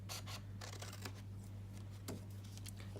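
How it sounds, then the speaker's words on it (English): Large-handled scissors cut paper for an accordion-fold box in a close, steady series of crisp snips and slicing strokes with no voices. "I'm using the bigger handled scissors"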